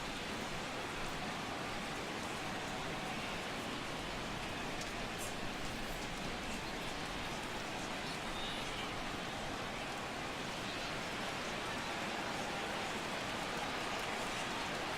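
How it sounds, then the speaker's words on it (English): Steady rain pours down throughout a baseball game in the MLB The Show 16 video game, a continuous dense hiss of falling water at an even level with no talk over it. "The rain, as we've mentioned, coming down fairly steadily here at game time."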